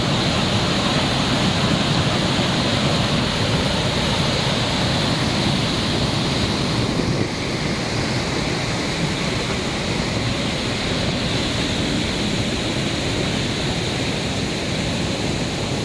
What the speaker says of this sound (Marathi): फक्त पाण्याचाच आवाज येतोय,